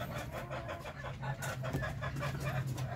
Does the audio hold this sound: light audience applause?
no